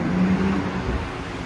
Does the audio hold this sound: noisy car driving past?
yes